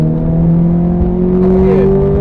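A Ferrari F430 accelerates on a wet Silverstone track, its engine note rising smoothly in pitch as the revs climb, loud and close.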